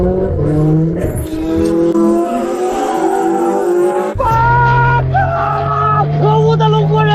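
A car brakes hard into a curve during a tense road chase, its tires squealing in a loud, sustained screech. Revving engine noise and a burst of agitated voices ring out around it.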